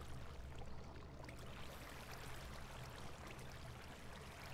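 Water from a placed source block in the Minecraft video game flows in a soft, steady rushing wash, faint and continuous throughout with no talk.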